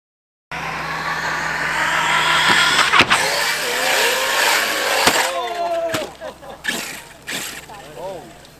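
Radio-controlled cars race and launch off a ramp at an outdoor long jump competition, motors buzzing and whining loudly and continuously, with sharp thuds and clatter as they land, while people talk nearby.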